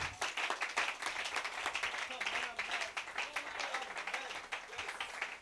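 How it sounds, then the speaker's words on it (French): A crowd claps and applauds steadily, a dense rattle of many hands, fairly distant, with voices mixed in. "Donnez-lui une main d'acclamation"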